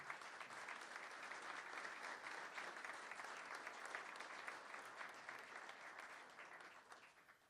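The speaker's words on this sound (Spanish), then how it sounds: "Un fuerte aplauso nuevamente, por favor." Steady, dense applause from the audience at an honorary doctorate ceremony, a continuous wash of clapping that holds for several seconds before tapering slightly at the end.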